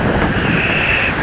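Ocean surf washing onto a beach during shore fishing, a steady, close roar of breaking water mixed with wind buffeting the microphone, with no talking.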